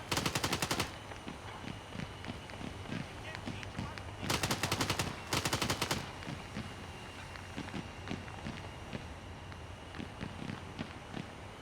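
Bursts of automatic weapon fire in the video game Arma 3, Antistasi mode, three sharp rapid volleys with running footsteps and scattered distant shots between them, plus occasional low talk.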